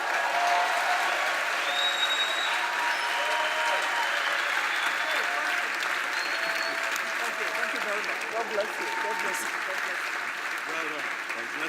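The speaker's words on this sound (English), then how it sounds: "Another round of applause, please" Audience applause at a church or community gathering, a sustained, even roar of many hands clapping, with faint voices and a whistle-like tone rising above it now and then.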